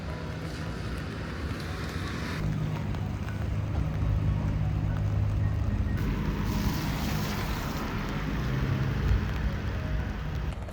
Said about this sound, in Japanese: 今更なんですけど雨が全く止みません。